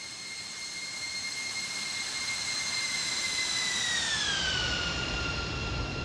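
Boeing 747 freighter jet roaring past in X-Plane 12, a loud steady engine whine and rumble whose high tones drop in pitch as it passes close by.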